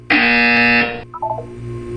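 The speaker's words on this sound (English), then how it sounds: "You will hear a buzzer." A single loud electronic buzzer blares for about a second in the video game Portal 2, followed by a few short electronic beeps over a low hum.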